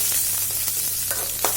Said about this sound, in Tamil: கடாயில் கொஞ்சமாக எண்ணெய் விட்டுட்டு நறுக்கி வச்சுருக்கிற ஒரு பெரிய வெங்காயம் சேர்த்து நல்லா வதக்கிக்கலாம்.